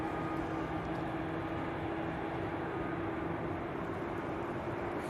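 Ryanair airliner arriving at Manchester Airport, a steady distant roar of jet engines holding constant for several seconds with no voices.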